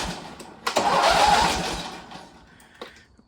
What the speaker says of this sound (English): we're going to want to get up there, spin over the engine about twice